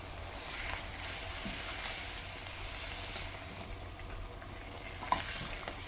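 Rabbit pieces and bacon hit a hot pan of onions, carrots and garlic, giving a steady broad sizzle with faint stirring clicks and one sharp tap near the end; no voices.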